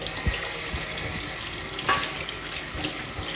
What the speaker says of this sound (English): And now we just need to give them a rinse.